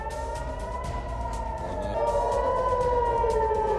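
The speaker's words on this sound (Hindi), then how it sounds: "हमले के बाद पूरा इलाका अलर्ट सायरन से गूंज उठा।" A wailing air raid siren sounds continuously across Tel Aviv after a Houthi missile attack, its pitch slowly sliding, loud and steady over low background rumble, with no voices.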